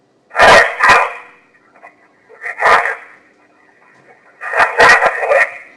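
A dog barks in three short bursts from close range, recorded in a bed at night, with brief quiet gaps between the barks.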